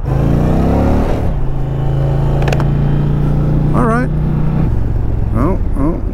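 A 2020 Indian Challenger Dark Horse bagger motorcycle rumbles steadily in traffic, its low engine drone close and continuous, with a rider talking over it and brief whistle-like tones near the end.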